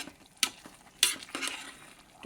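Dal khichdi with lentils, peas and carrots being mixed with salt and chili in a pot, with soft sizzling under several sharp scraping spoon strokes spaced irregularly.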